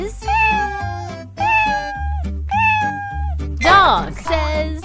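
Three rising-and-falling cat meows repeat at a steady pace over a bouncy children's song backing, with one more warbled meow near the end; the calls are clear and loud, and may be a voice imitating a cat.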